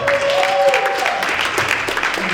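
At an annual Christmas gala and awards ceremony, a crowd claps in a loud round of applause with a close, busy patter of hands. A faint tonal sound briefly rises under it.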